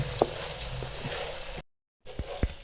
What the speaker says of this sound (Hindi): ज़्यादा हम इसको फ्राई नहीं करेंगे, सिर्फ 2 मिनट हम इसकी बुनाई करेंगे ताकि सब्जियां हमारी अच्छी सी गल जाएं।